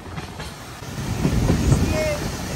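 Amrit Bharat Express sleeper train rolling across Farakka Barrage, a steady loud rumble and wheel clatter with faint tonal squeals, continuous throughout.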